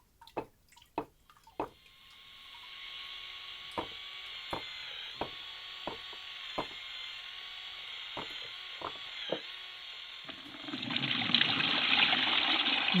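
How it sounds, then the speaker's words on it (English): Water mixed with clay being poured through a sieve while refining the clay, heard as a steady near trickle and drip, punctuated by sharp wooden knocks, swelling into a louder splashing pour at the end. "Repeating this cleaning process, this liquid is poured over and over again through the sieve, refining the clay even further."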